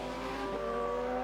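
A race car in the F1 Manager video game spins out, its engine a steady, loud, tonal whine with a brief smeared swell midway and no talk.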